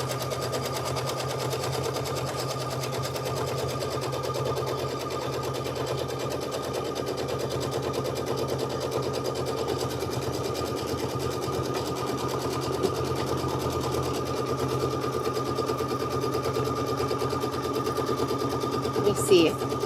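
Embroidery machine stitching a Kimberbell watermelon quilt block, a steady fast mechanical hum running evenly throughout, with talk alongside.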